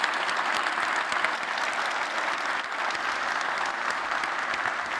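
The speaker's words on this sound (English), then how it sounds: "Let's give these folks a big round of applause." Sustained applause from a large audience at a tech keynote conference, dense and steady clapping throughout at a fairly even level.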